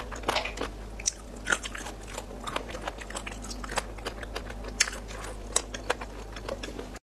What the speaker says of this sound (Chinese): 这鸡爪子真香，真好吃。